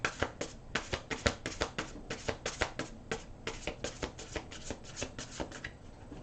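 A thick deck of angel oracle cards being shuffled by hand: a close, quiet run of quick riffling clicks and taps in an irregular but steady rhythm, with no talking over it.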